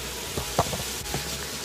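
Sausage sizzling in a pan for korvstroganoff in a home kitchen, a steady hiss with a handful of sharp crackles and pops scattered through it, close and moderately loud with no voices.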